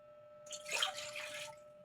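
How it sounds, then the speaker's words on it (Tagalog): Water pours briefly into a pan to be brought to a boil, with a soft, splashy hiss lasting about a second, quiet and close. "Maglagay na ako ng tubig."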